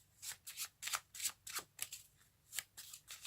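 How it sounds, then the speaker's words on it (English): A packet of playing cards is shuffled by hand on a card mat, a series of about a dozen quick, crisp riffling bursts in uneven rhythm, close and fairly quiet, with no talking. "they can shuffle this packet"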